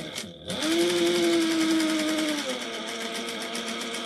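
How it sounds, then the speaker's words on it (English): Sewing machine back stitching a tote bag, a quiet click, then a steady motor whir for about two seconds that drops to a lower running hum, close and alone. "Back stitch a couple stitches."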